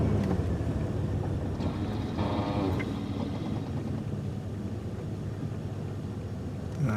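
A car crawling at about five miles an hour during an ABS wheel sensor test, a steady low engine and road rumble with wind buffeting the microphone throughout, no talking.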